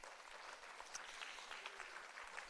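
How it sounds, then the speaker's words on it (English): Applause from the audience at a Half Moon Bay city council meeting, a steady, fairly quiet patter of many hands clapping throughout, with no voices over it. "Please give him a little round of applause."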